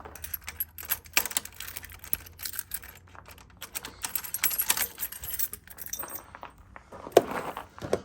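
Keys jangle and clink at close range as they are handled and turned in the ignition of a Ninja 400 motorcycle, a run of irregular small metallic taps and rattles with no talking.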